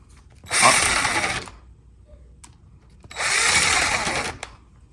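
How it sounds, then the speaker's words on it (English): Power drill driving screws into the latch bolt of a Hugolog JU04 smart door lock, two loud close bursts of whirring about a second each with a short pause between, then a brief tick. "Secure the latch bolt with screws."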